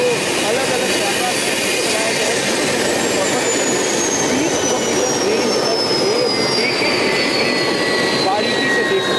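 HAL Light Combat Helicopter turbine engine and rotor at a forward military location, a loud, steady, close whine and roar that runs unbroken throughout, with a voice likely speaking over it.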